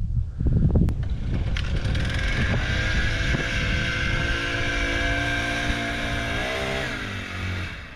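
Small outboard-style motor pushing a kayak across water, a steady droning hum with engine harmonics that holds throughout and dips slightly in pitch near the end, close and fairly loud.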